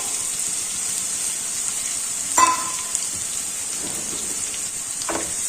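Green garlic sautéing in a hot pan with oil, a steady close sizzle throughout with a couple of brief stirring clinks.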